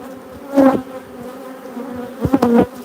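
Honey bees buzz around a queenless hive being fed, with two louder close passes rising out of a steady insect hum in the background.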